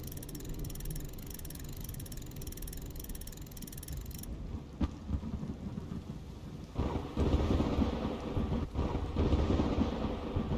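Rain and rolling thunder in the survival game Road to Vostok, a steady wet hiss with low rumbles that swell louder in the second half, with no voices over it.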